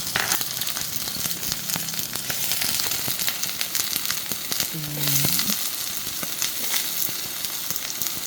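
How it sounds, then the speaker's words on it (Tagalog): Onions sizzle steadily in a little oil in a pan for a Filipino-style stir-fry with carrots, bell pepper, leek and beef. The frying hiss is continuous and close, with small crackles and one brief clatter midway and no talk. "Lagay tayo ng mantika, konti. Lagay natin ang ating sibuyas"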